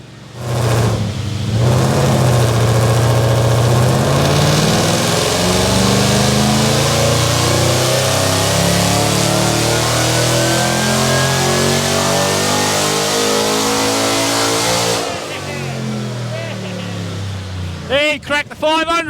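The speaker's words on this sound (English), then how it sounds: "fully worked supercharged 5 litre" A heavily modified supercharged 5-litre Ford engine revs hard on a dyno at a Ford performance dyno day, loud and sustained with rising pitch, then cuts off before brief bursts and voices near the end.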